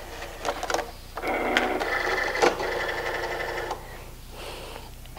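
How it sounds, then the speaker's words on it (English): A Cricut cutting machine pulls in a vinyl-loaded cutting mat, a whirring mechanical feed with clicks and a steady motor hum lasting a few seconds, then quieter rattles as it stops. "And then you can insert the mat into your machine."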